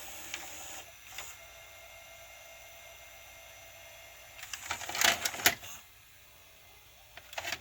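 An RCA VR-674HF Hi-Fi VCR from 1994 ejects a tape, with a burst of whirring and clicking mechanism noise in the middle, a few quieter clicks before and after over steady background hiss.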